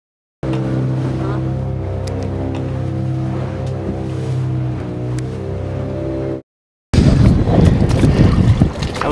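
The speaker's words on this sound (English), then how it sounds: "sail out to the reef." A boat heads out to the reef off Caye Caulker, Belize, with a steady, droning engine hum for several seconds. After a brief dropout comes harsh, loud wind buffeting.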